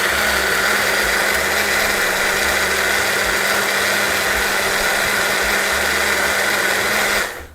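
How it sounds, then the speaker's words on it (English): A blender whirring through whole orange cake batter, a loud steady motor roar held close for several seconds before winding down abruptly at the end. "Give this another blend."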